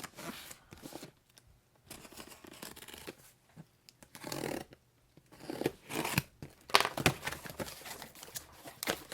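A package holding a lot of 501 car parts, including heat sinks, pulleys and anti-sway bars, is opened with bursts of crinkling, tearing and scraping, louder toward the end, with quiet gaps between.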